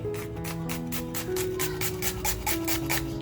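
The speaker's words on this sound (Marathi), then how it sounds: "कांदा अगोदर आहे ना अगदी बारीक कापून घ्यायचे" A knife finely chopping an onion for Maharashtrian prawn masala, with quick, evenly spaced strokes over a low steady hum and no talking.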